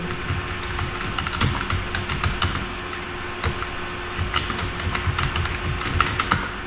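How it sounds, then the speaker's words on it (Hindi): Rapid clicking of a computer keyboard while entering data into an Excel marksheet, steady close keystrokes with bursts of quicker taps over a constant background hum, no speech. "अपने स्टूडेंट का नाम टाइप करेंगे"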